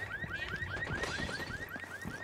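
A car alarm in Ghost Recon Wildlands wails in fast repeating rising sweeps, about ten in a row, steady and moderately loud over a low rumble of game background.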